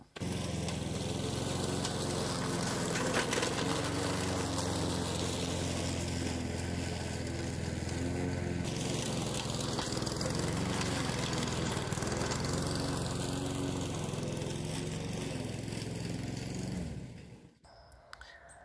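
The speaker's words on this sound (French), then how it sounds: "je vais prendre la tondeuse et puis je vais passer un petit coup dessus" A lawn mower runs over leaves and twigs in a garden, a loud steady engine drone with rough crunching texture that continues for most of the stretch, then cuts off near the end.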